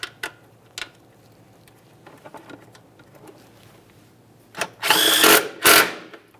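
A mounting bolt on the horn of a 2006–2012 Ford Fusion is run in with a power tool, with scattered small clicks and knocks and then two short, loud whirring bursts close by.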